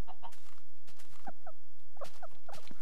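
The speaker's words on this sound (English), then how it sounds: "Oh, it's a guinea pig." Guinea pig in the Minecraft video game squeaking repeatedly, a string of short high chirps spread across a few seconds at moderate level over faint game background.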